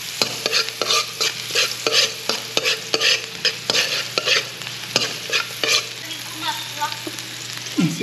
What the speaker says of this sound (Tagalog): Pagsabay na po natin yung bawang at sibuyas.